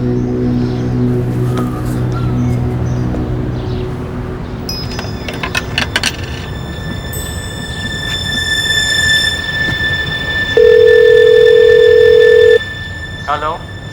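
A telephone rings in a home during a tense family drama, its tone starting partway through and holding steady for about two seconds over room noise and earlier background voices.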